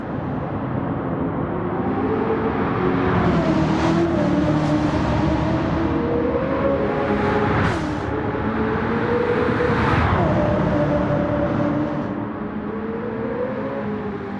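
Toyota Hiace van lapping a race track in Gran Turismo 7: a continuous engine drone that rises and falls through gear changes, with occasional passing whooshes and no talking.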